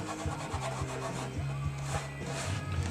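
Fingers rub wet paper pulp off an ink transfer laid on beeswax, a continuous close scrubbing and rasping in quick strokes that stays steady throughout.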